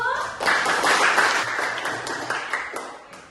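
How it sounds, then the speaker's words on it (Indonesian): Students in a classroom clap their hands together in a short burst that starts suddenly, holds for about a second, and then trails off into a few separate claps. "Oke, baik, tepuk tangan dulu"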